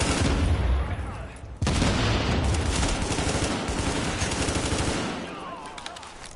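Gunfire in the video game The Division: dense, loud automatic bursts and overlapping shots rattle almost continuously, with a brief break before the barrage resumes and slowly thins, shouted voices mixed in.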